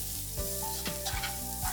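Garlic, chopped onion and turmeric powder sautéing in a pan for a Kerala vegetable moily, a steady close sizzle with a few quick stirring scrapes and knocks on top, no talk.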